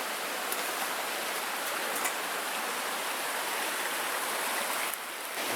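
A small creek at a woodland campsite flows steadily nearby, a constant close rushing and babbling of water with no voices.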